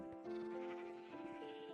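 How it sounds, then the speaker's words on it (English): Sheep in the Minecraft video game bleat in overlapping, sustained wavering calls that blend into a continuous chorus from a crowded pen, close and without speech. "I had to show you guys the chaos of all the sheep"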